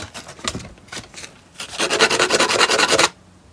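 Small model hands for a C-3PO protocol droid figure are sanded: a few short scattered scrapes, then a fast, steady rasping rub lasting about a second and a half, close and clear with no talking.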